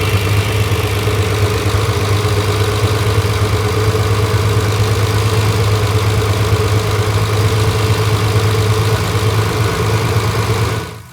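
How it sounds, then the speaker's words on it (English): A Ferrari 330 GTC engine holds a steady, loud idle throughout while its carburettor mixture is being adjusted, a continuous low rumble with no voices over it. "the revs are rising as I screw this in, which means it was too rich"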